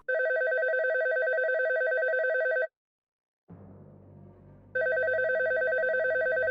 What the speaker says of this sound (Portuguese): fui acordado com meu telefone tocando